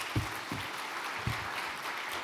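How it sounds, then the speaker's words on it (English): Conference audience applauding Governor Waller after his speech at the Bank of Korea International Conference: steady, fairly faint clapping from a large hall, continuous throughout with a few low thumps. "please give him a big round of applause"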